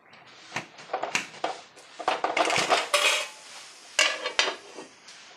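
Metal clatter as the lid of a cooking pot holding Kerala ilai adai is lifted, with several sharp clinks and scrapes of lid and utensils close by.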